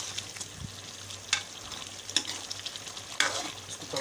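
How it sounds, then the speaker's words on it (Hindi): Potatoes with dry powdered cumin and coriander frying in a karahi: a quiet, steady sizzle broken by three or four sharper scraping stirs, close by and without talk. "अभी हमने इसको खुश्क मसाला जात के साथ भी भून लिया।"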